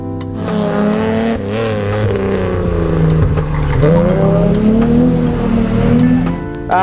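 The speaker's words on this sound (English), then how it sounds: "this is my 2002 Mitsubishi Magna" A 2002 Mitsubishi Magna hillclimb car with a 380 motor revs hard and close, its engine note rising and falling through gear changes over about seven seconds, with no talk.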